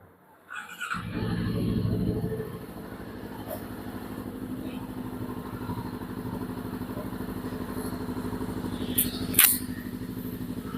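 A Voge 525 DSX motorcycle fitted with a new full exhaust muffler starts up and idles with a steady low throb, rising briefly in a short rev near the start, followed by a sharp click near the end.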